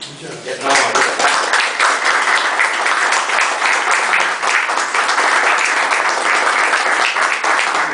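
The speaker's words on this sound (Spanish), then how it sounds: "El aplauso para ti" Audience applause fills a hall after a book presentation speech, dense steady clapping rising in the first second and holding loud throughout, with some voices mixed in.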